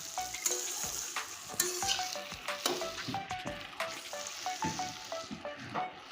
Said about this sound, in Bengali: বড় ছোলাটা আমি অনেকক্ষণ সময় নিয়ে কষিয়েছি আলু দিয়ে